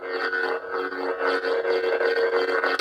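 A Korbanth MPP lightsaber hilt with a Proffieboard and neopixel blade gives a steady, buzzing electric hum that swells and wavers gently with smooth swings, close and continuous with no talking.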